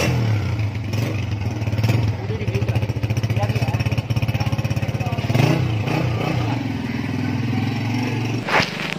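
A new Honda 125 motorcycle is ridden, its engine putting out a steady close rhythmic chug with brief revs and some clatter; a voice is heard faintly at moments.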